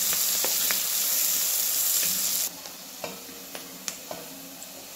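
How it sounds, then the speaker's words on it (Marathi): Chopped onion sizzling loudly in hot oil in a kadhai for poha, over crackled mustard seeds and cumin; a steady frying hiss fills the first half, then drops quieter with scattered sharp pops and ticks. "चांगला कांदा भाजून घेऊया।"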